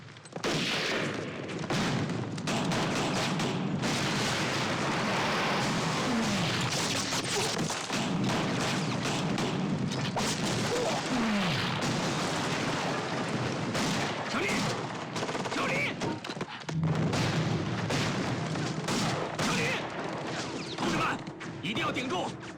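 Dense gunfire and artillery from a war drama about the defense of Changsha, with heavy bursts and crashes rolling almost without pause for over twenty seconds and voices mixed into the din.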